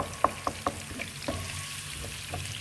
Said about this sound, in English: Added the onions, let them cook for a while.